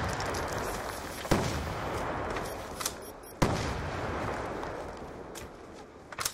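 Rapid gunfire from the video game Black Ops 2, a dense rattle of shots with a few sharper, louder reports standing out against the steady barrage.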